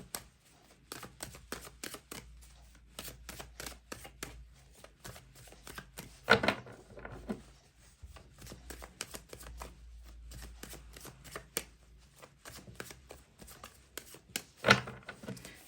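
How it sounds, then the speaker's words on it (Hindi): Tarot cards being shuffled by hand in quick, crisp riffling bursts, with repeated soft slaps and flutters in an irregular rhythm, close and fairly quiet, with no talk. "मैंने कर ली है सफलिंग"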